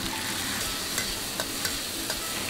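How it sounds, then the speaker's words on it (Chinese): Yam and red chili are stir-fried over high heat in a wok, giving a loud, continuous sizzle punctuated by several sharp spatula clacks and tosses. "再开大火下入山药和红辣椒"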